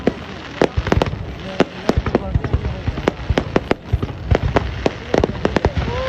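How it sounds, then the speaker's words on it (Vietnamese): New Year 2024 fireworks display over a lake shore in Mường Tè district, with rapid sharp bangs and crackling bursts at irregular intervals, loud and close, and people talking beneath. "màn trình diễn bắn pháo hoa huyện Mường Tè, Na Giác"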